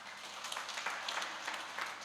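A church congregation applauds steadily during a worship service, a dense, even wash of clapping from many hands with no talking.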